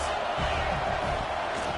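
A stadium crowd roars for the home defense on a third down late in a football game. The sound is a dense, steady wall of cheering with no breaks.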